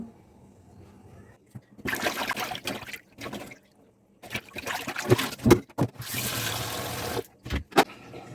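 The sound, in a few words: washing hilsa fish pieces with water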